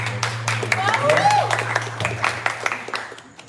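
Audience applause at an evening dance and discussion event, steady clapping from a crowd running through most of the stretch while a voice speaks over it.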